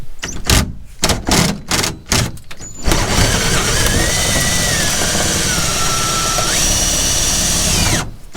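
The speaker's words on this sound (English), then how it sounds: "This was actually scarily easy to just drill right in." A power drill bursts on and off in short pulses, then runs continuously with a steady whine as it bores into a metal lock, close and loud.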